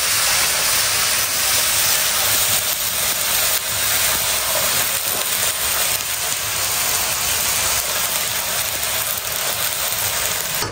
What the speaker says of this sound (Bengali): তো এদিকে হচ্ছে সবজি সিদ্ধ হচ্ছে